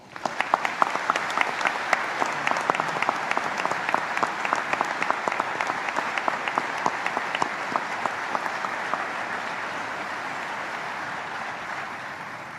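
Sustained audience applause at a Veterans Day ceremony at Arlington, many hands clapping steadily at mid distance, dense and even throughout before slowly thinning toward the end, with no talking over it.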